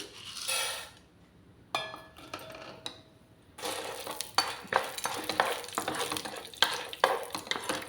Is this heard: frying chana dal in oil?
yes